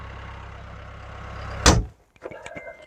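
A tractor engine idles with a steady low rumble, then a sharp loud thump cuts in and the engine falls silent, leaving a few faint clunks and rattles afterward.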